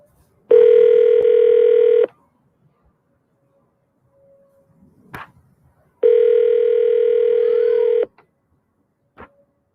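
Two long, steady electronic telephone tones sound a few seconds apart, separated by faint clicks and quiet background noise.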